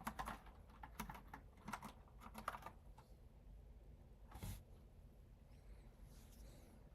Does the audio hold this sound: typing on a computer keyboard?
yes